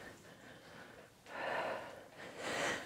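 Heavy breathing after intense interval exercise, squats included: close, loud huffing breaths come in two or three strong surges, caught right at the mouth of someone recovering, with no speech.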